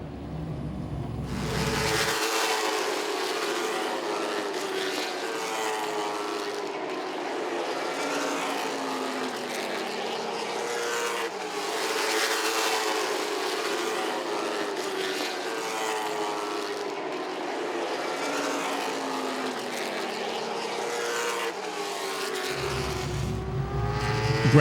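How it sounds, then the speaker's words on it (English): Late model race cars run at Langley Speedway in a continuous, loud roar of engines that swells and fades as the pack passes, lasting over twenty seconds without a break. "Some tight racing here for the late model division."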